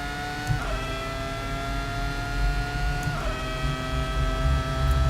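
A Ferrari F2002 Formula 1 car in the Assetto Corsa racing game screams at high revs, its engine note rising steadily, dropping sharply at two gear changes, then climbing again, loud and continuous with no talk.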